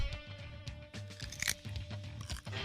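Crisp, close crunches of someone biting into and chewing a raw radish during a candy tasting game, several sharp bites followed by moist chewing.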